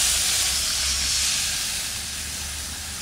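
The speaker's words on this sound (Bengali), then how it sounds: "কষিয়ে নিলাম, জল দিয়ে দিচ্ছি।" Water poured into a hot pan of Bengali koi fish curry hisses and steams in a steady, close broadband sizzle that slowly eases over a few seconds, with no talk.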